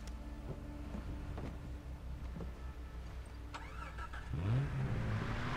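A car engine in Far Cry 3 runs steadily, then revs up near the end with a rising whine as the vehicle accelerates, fairly quiet overall.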